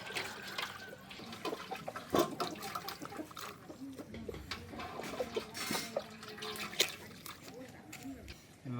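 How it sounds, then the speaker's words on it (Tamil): Chicken meat for chicken rice is washed in water, with irregular splashing, sloshing and dripping at close range that rises and falls throughout. "நல்ல வடிவாக கழுவி எடுப்போம்."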